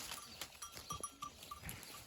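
Several short, nasal sheep bleats repeat in quick succession against a faint rustling background, fairly close and moderately loud.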